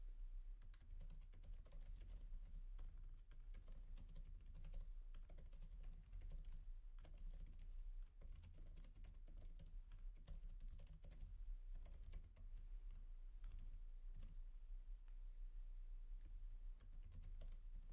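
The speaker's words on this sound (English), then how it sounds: "So I've just typed in these two sentences here to replace the address" Rapid, continuous typing on a computer keyboard, close but quiet, with dense irregular key clicks running throughout and no talking.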